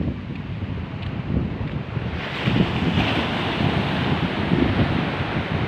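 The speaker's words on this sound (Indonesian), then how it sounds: "Itu kalau kita lihat ombaknya," Ocean waves on a beach roll and wash in a steady roar, mixed with heavy wind buffeting the microphone, and no voices are heard.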